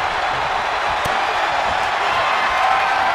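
Wrestling arena crowd at a championship match roaring in a steady, dense wall of noise, loud and continuous with brief spikes of cheering and whoops throughout.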